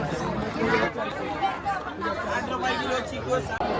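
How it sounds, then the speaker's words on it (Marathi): A dense crowd chatters without a break at a busy fish market during the Shimga Holi festival, the many voices merging into a loud, steady babble that stays close and fills the whole scene. "आता गर्दी बघा इथे"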